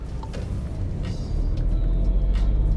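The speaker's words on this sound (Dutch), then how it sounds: "Dit is een turbomotor." A 2017 Seat Ibiza's turbocharged engine hums and rumbles from inside the car while driving, the low drone swelling and growing louder as it pulls, with faint whine above.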